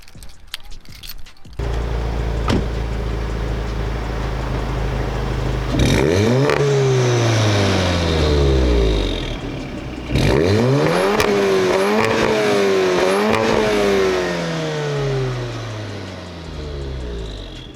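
A VW Golf 7 with stock exhaust and a 3-inch downpipe revs hard several times, rising and falling in pitch with a throaty, crackling exhaust, loud and close after a quiet idle start.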